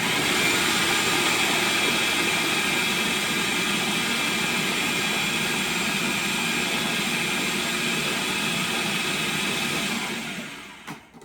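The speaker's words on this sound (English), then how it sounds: "So I'm gonna just puree this a little bit." An electric blender purees blackberries for jam with a loud, steady whir that runs unbroken for about ten seconds, then winds down and cuts off near the end.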